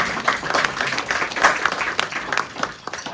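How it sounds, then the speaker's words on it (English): An audience at an exhibition private view at Gainsborough's House gives a round of applause, a dense, steady clapping from a crowd close by. "applause"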